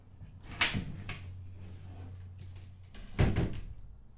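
A birch plywood bed lid on a piano hinge, part of a 1973 Winnebago Brave camper, thunks open and closed in two distinct knocks about two and a half seconds apart, with a low hum in between.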